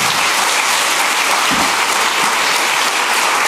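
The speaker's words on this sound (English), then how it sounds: "A warm applause for this presentation." An audience gives loud, dense, sustained applause after a game design talk on screenshake at a 2013 class event, the clapping filling the room evenly throughout.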